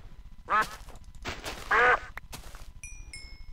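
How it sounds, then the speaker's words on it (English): Two distinct, fairly loud quacks from a duck in the Minecraft video game, a short pause between them, followed by faint clicks and a few soft high chimes against a low rumbling background. "Another duck and a pig."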